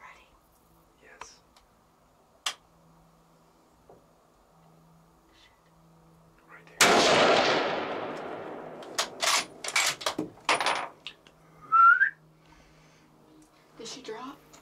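A single loud gunshot while hunting, sharp and close with a ringing decay, standing out from a quiet outdoor scene with soft murmured talk and small clicks before and after.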